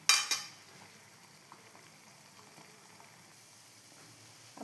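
Gulab jamun balls frying in oil, opening with a couple of sharp utensil clinks, then a faint, steady low bubbling fry that carries on alone and quietly.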